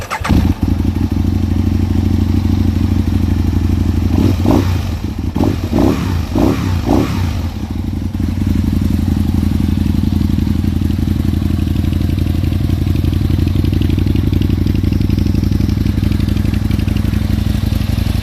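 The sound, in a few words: 2008 Aprilia Tuono Factory R motorcycle engine running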